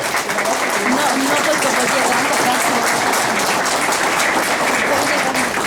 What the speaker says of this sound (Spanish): Un aplauso para Venezuela a través de su compañero.